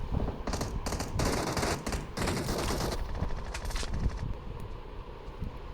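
Rapid video-game gunfire in dense continuous bursts, loud and close, with brief pauses between volleys.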